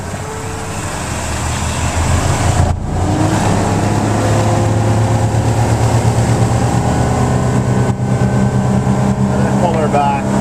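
A 2006 Trophy Pro 2052 boat's engine drones loud and close, rising steadily as it accelerates up to speed, with broad wind and water rush over the hull.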